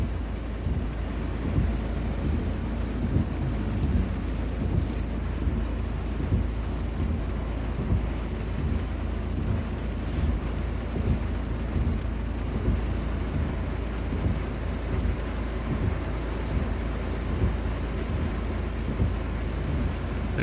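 Heavy summer rain falls in the UK, a dense, unbroken hiss and roar lasting throughout with no voices, steady in loudness from start to finish.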